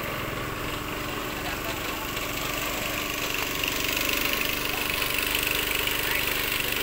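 A drilling machine engine runs steadily as a constant, dense mechanical drone with no breaks, with faint voices under it.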